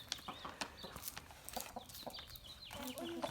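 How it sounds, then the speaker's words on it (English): An Araucana hen clucks in short, scattered calls over a little under four seconds, with a few sharper squawks and brief voices nearby in an outdoor farmyard setting. "She's an Araucana chicken."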